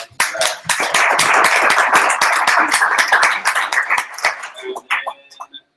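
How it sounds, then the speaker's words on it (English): A meetup audience at a functional reactive Angular 2 talk breaks into brisk, close clapping that holds for about four seconds before thinning out into a few scattered claps and fading away. "a round of applause for that"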